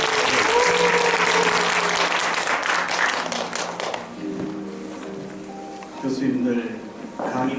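Loud lecture-hall audience applause fills the first four seconds, then thins out as a voice talks over the fading claps.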